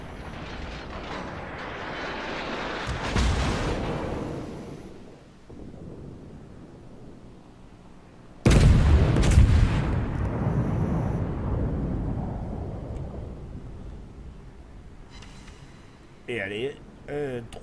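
Heavy naval gunfire aimed at the German battleship Tirpitz in the naval combat game World of Warships, heard as two big booming salvos with long rumbling decays, a louder second one, and someone commentating in French over them.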